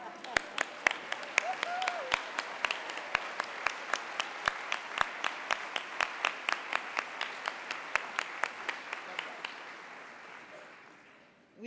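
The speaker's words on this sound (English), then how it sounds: "please stand and applaud and wave those red bags" Audience applause at a nursing education summit's keynote and opening reception, a steady patter of clapping with sharper close claps standing out in a fairly regular rhythm, a brief vocal sound early on, then tapering off at the end.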